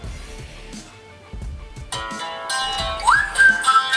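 A melodic whistle ringtone plays from an Android phone speaker, starting faint and rising into a clear, bright whistled phrase over soft background noise.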